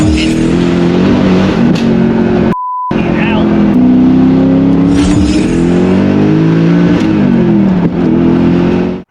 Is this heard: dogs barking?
no